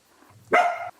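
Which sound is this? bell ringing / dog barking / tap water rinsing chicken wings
dog barking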